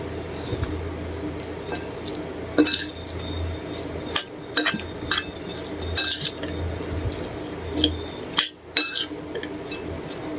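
Metal utensil scraping and clinking in a pan while pork sisig is stirred, with irregular clanks and sizzling squishes at close range, and no talk over the clatter.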